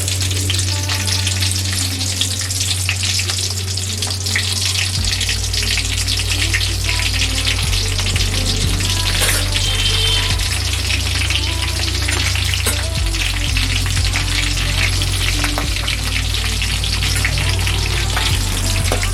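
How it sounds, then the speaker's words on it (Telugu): Slit green chillies frying in hot oil, a loud steady sizzle that fills the whole stretch, with a low hum underneath and occasional faint stirring clicks. "ఆయిల్ వేడెక్కిన తర్వాత చీలికలుగా చేసుకున్నటువంటి మిరపకాయలు"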